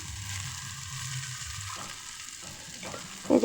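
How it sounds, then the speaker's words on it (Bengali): Poppy seed paste being poured into a pan of fried onions, a steady close sizzle of frying with a few stirring knocks near the end. "এর মধ্যে এবার আমি পোস্তটা ঢেলে দিচ্ছি"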